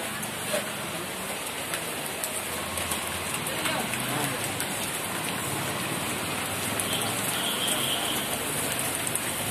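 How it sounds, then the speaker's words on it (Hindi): Steady rain falling in Delhi, a dense continuous hiss of drops on surfaces filling the whole stretch at an even level, with no voices standing out. "29 फरवरी 2020, बारिश दिल्ली।"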